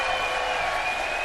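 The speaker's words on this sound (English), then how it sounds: "Well, you can hear the applause" Arena crowd applause at a professional darts championship final, a steady wash of clapping heard briefly with a faint tonal hum beneath.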